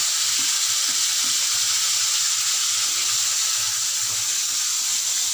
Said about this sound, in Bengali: চলো আমি চিংড়ি মাছগুলো ভেজে নিই